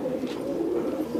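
A male kaldum pigeon from Sambhal gives a single short, soft coo, fairly close and on its own.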